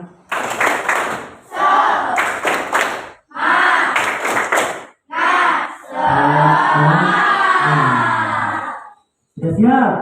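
A class of students performs the rhythmic "tepuk semangat" spirit clap, with loud bursts of patterned clapping broken by short pauses and mixed with chanting voices, close and energetic.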